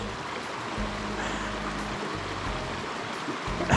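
Water of a Tasmanian stream flowing, a steady close rushing and burbling with low rumbles from wading through it, continuous throughout with no speech.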